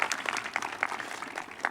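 At a high school graduation, the audience gives steady, moderately loud applause for the senior cabinet, with many overlapping hand claps forming a continuous patter that holds evenly throughout.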